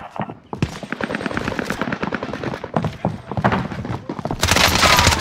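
MP5 gunfire on Rebirth Island in Call of Duty Modern Warfare, quick close automatic bursts in a fast rhythm, with brief voice callouts mixed in and a louder rush at the end.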